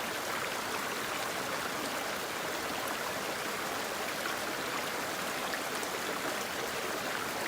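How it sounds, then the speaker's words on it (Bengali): Rice being washed in a pot of water gives a steady, continuous splashing and trickling wash of water throughout, close and fairly even with no talking. "এখন ধুয়ে নিবে চালগুলো সুন্দর করে ধুয়েছে"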